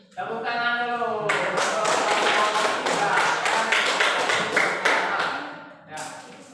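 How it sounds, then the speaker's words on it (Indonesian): A classroom group claps hands together in quick, loud bursts after a voice calls out, the sharp claps tapping in a rapid pattern before trailing off, with speech heard at the start and end. "Tepuk tangan dulu."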